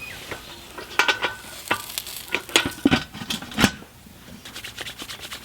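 Steak sizzling in a covered pan with smoke building under the lid, a steady close crackle broken by sharp spitting pops and light clatter, with no talking.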